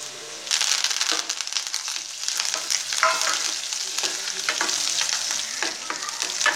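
Small shallots, dried red chillies and curry leaves fry in hot oil in a pan, a loud, steady crackling sizzle with sharp pops throughout after a quieter start.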